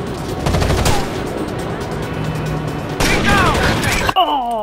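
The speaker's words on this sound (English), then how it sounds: "I was shooting him the whole time and then he snipes me" Rapid automatic gunfire in Rainbow Six Vegas 2, loud sustained bursts with a brief break and a final sharp shot, mixed with game effects and voices talking over it.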